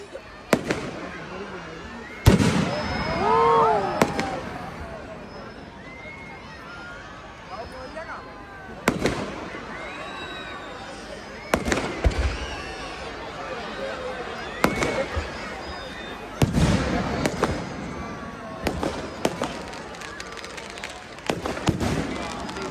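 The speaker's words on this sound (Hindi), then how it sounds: "आप भी अपने यहाँ पे जो परंपरागत हमारी आतिशबाजी है उसको प्रारंभ करें।" Traditional fireworks bursting at a Dussehra Ravan Dahan celebration in Nainital, with repeated loud cracks and booms at irregular intervals over a crowd's murmur and whistling rockets.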